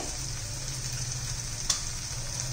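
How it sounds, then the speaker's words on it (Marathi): Tomato with onion-garlic masala fries in a pan for a bitter gourd recipe, a steady close sizzle running throughout, broken once by a single brief spatter. "पहा, आता आपण त्यात आता मसाले घालूया. कांदा लसूण मसाला घालायचा"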